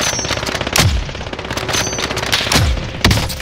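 Rapid automatic gunfire from the Call of Duty Warzone video game, loud and close, firing in several sharp bursts with brief pauses between them and no talk.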